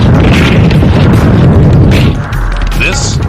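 Honest John tactical nuclear missile launch, a loud roaring boom that rumbles heavily for about two seconds before easing into a lighter rushing tail, with a voice faintly over it.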